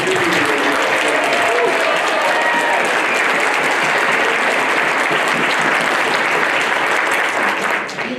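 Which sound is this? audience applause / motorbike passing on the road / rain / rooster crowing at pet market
audience applause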